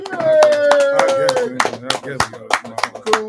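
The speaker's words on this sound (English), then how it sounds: "y'all want to give him a round of applause or something?" Scattered claps and cheering rise from a podcast audience while people keep talking and whooping over them, loud and close.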